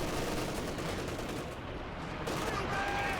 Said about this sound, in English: MG42, however, moving forward, will go ahead and suppress the squads